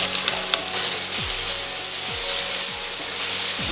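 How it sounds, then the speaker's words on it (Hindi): Tomatoes fry in a pan for chicken biryani, a steady close sizzle with occasional stirring scrapes and soft clinks. "टमाटर को भी अच्छे से मिला के थोड़ी देर पका लेंगे।"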